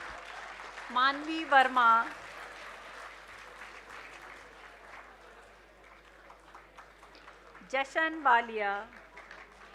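An audience applauds at a university convocation ceremony at Thapar Institute of Engineering & Technology in Patiala. Two short bursts of clapping come from a hall, each following a speaker reading names aloud over a microphone.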